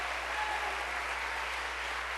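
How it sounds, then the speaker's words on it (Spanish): A church congregation applauds, a dense and continuous wash of clapping that stays loud and even throughout, with no voices rising above it. "ese aplauso fuerte al Señor"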